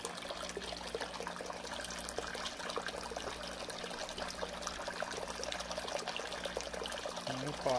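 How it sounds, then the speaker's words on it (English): Water is reverse-flushed through a plate chiller set in a cleaning tray, giving a steady close pouring and trickling wash with no talk over it. "Now, this is supposedly a clean plate chiller. I got it flowing reverse."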